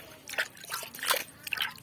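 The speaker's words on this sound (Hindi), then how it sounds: "थोड़ा पानी डाल दे रही हूँ।" Water pours in small splashes into a mix of red and white clay colour, making a few close, wet trickling and dripping bursts in quick succession.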